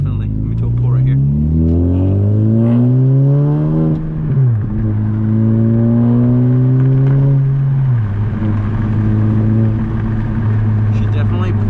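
A straight-piped 2021 Honda Civic FK7 hatchback with a Skunk2 exhaust accelerating hard, its loud exhaust note climbing steeply through the gears with brief dips at each shift, heard from inside the car.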